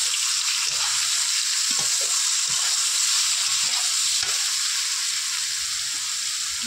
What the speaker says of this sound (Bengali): পরিমাণ মতো লবণ, পরিমাণ মতো হলুদ দিয়ে ভালো করে ভেজে নেব।